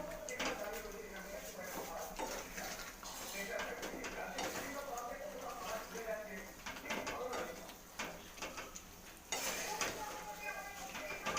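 Fried okra is tipped into a pan for bhindi masala, with soft clatter of utensils and scraping against the pan in a home kitchen, quiet throughout and accompanied by talking.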